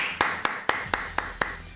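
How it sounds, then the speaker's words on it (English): Six sharp hand claps land at a steady, even pace, crisp and close, with faint background hum behind them. "because I was too busy clapping"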